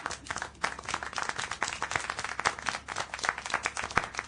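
Applause in the video game Syberia The World Before, dense continuous clapping from a crowd of hands at moderate volume, steady throughout with no voices.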